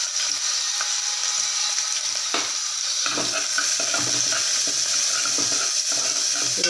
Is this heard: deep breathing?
no